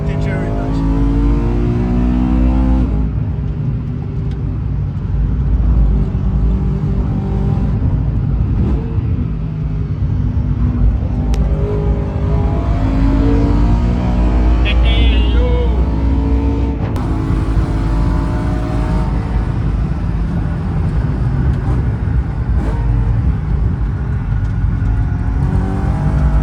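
A race car drifting at a race-day event, with loud sustained engine roar and tyre noise throughout, heard close up while people talk over it.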